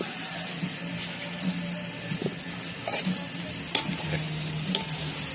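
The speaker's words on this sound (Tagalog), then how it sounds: "Halu-haluin nyo na lang para kumasya sa kawali." Pechay greens stirred in a frying pan, sizzling steadily with scattered soft scrapes and clinks of the spatula, close up, while a voice briefly speaks.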